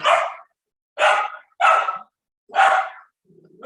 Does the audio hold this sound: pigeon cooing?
no